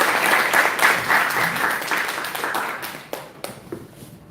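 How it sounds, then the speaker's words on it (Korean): Audience at a surgical critical care lecture applauding to welcome the speaker, a dense sustained burst of clapping that thins into a few scattered final claps. "김인경 교수님 박수로 맞이해주십시오"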